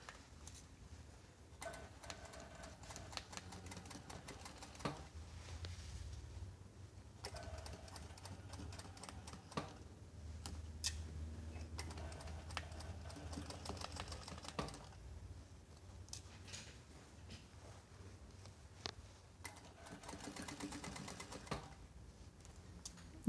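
Sewing machine stitching along a chalk line while altering a dress's zipper back into a corset back, quiet rapid mechanical whirring in several runs with brief stops between them.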